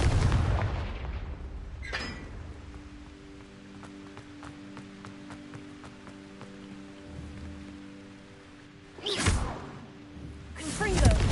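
Confringo fire spells cast in Hogwarts Legacy, loud whooshing blasts near the start and around nine and eleven seconds, with a steady game music drone and soft patter between them.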